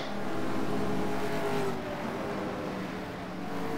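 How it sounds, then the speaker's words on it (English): Race cars at speed through turns 6 and 7 of a circuit race, a loud continuous engine roar with rising and falling revs as several cars pass close by, no talk. "You can see the cars coming through turn 6 and 7."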